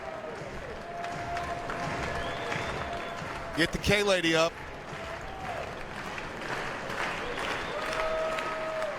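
Baseball stadium crowd at an LSU Tigers versus Northern Illinois college game, ninth inning with two outs: a steady crowd roar under continuous play-by-play commentary, with a brief burst of louder shouting and noise in the middle.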